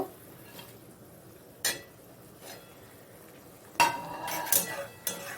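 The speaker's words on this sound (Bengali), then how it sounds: "ভেজে রাখা মোরলা মাছগুলো ঝোলের মধ্যে দিয়ে দেব" Fried morola fish slid into simmering curry in a pan, marked by a few sharp metallic clinks and clatters of utensil against pan, separated by quiet pauses.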